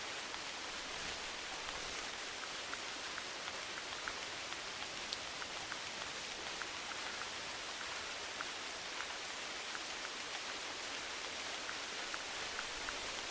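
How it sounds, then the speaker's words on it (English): Steady rain falls in the hunting video game theHunter Classic: a dense, even hiss of drops that runs unbroken and fairly soft from start to end, with no voices. "And here comes the rain."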